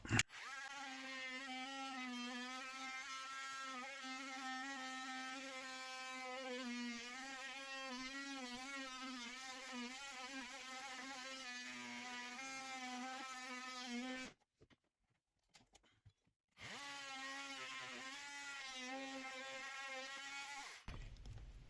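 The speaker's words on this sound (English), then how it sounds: "So we are with the einhell Dremel, a wood bit on the end." An Einhell rotary tool fitted with a wood bit cuts into a kitchen cabinet end panel, giving a loud, steady high-pitched whine that wavers under load, stops briefly, then runs again, with no talking.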